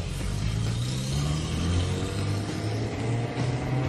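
A car's engine hums and pulls as it accelerates on a drive around a course, a steady mid-pitched drone close by with no talk over it.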